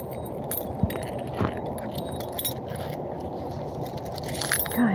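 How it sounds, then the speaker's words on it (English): Keys jangle on and off close by, with light metallic rattles and small clinks spread over several seconds against a steady indoor background hum. "keys are getting on my nerves."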